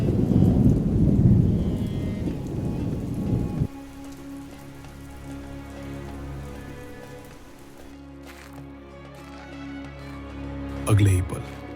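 Heavy rain pours in a dense, steady hiss with low rumbling thunder in a story sound effect, then it cuts away to a quieter hum with a brief sharp crack near the end.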